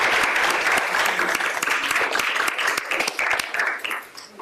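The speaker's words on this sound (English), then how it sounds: "Can we give Sue a round of applause for all her organizing?" An audience at an Earth Week keynote event applauds, with many hands clapping in a dense, close burst that stays strong and then thins and fades out near the end.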